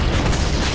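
A grenade explosion in the video game Halo gives a brief, loud, dense boom that fills the whole short moment with rumbling noise.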